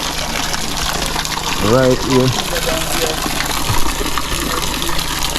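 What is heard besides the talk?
water flowing at a spring used for showering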